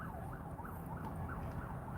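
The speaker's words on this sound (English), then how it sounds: "You can probably hear those sirens." A fire truck siren wails, rising and falling steadily, faint and distant beneath a low rumbling background of traffic noise near a wildfire.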